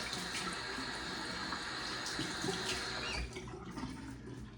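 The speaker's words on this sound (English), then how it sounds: "I'm gonna rinse the face." Tap water runs steadily into a sink while the face is rinsed after a wet shave, a continuous broadband splashing that drops slightly near the end.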